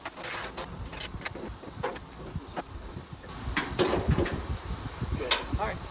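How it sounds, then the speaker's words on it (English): Nuts being hand-tightened onto the grille of a Toyota FJ Cruiser: soft scattered clicks, taps and metallic fiddling, close and fairly quiet, with brief handling noises and no talk. "So I'm just going to hand tighten all these down"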